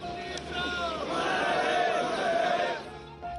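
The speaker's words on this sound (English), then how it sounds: "Kuldeep Rao Amar Rahe chants ringing in Ghaldana" Large crowd of mourners chanting in unison at a military funeral in Ghaldana village, Rajasthan, a sustained rising and falling mass of voices filling the whole stretch at moderate loudness.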